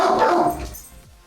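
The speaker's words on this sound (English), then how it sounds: "What are you barking at?" A single short dog bark up close, fading quickly into quiet.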